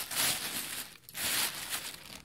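Soft plastic crinkling close by, two bursts of rustling separated by a brief pause, fairly quiet.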